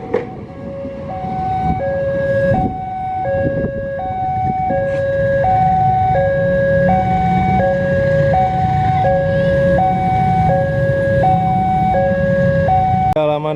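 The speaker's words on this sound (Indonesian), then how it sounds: "ini sepertinya ada kereta dari arah timur nih, antara kereta api Malabar sih sepertinya ya" A train, likely the Malabar, approaches from the east, heard as a steady alternating two-tone warning that repeats evenly over a constant low rumble, loud and continuous throughout.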